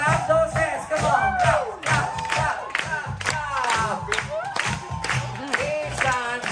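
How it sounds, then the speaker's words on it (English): Crowd on the Disney Fantasy cruise ship clapping hands in a steady rhythm, mixed with cheering voices and loud music on deck. "let me see you clap those hands"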